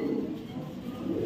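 Racing pigeons, including a 2019 bird from parents imported in 2017, coo in a continuous low, throaty murmur that stays close and steady throughout, with no voices.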